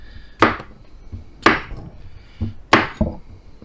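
Knife cutting the ends off bumpy cucumbers on a cutting board, five close, sharp chops in an uneven rhythm, with two nearly back to back at the end.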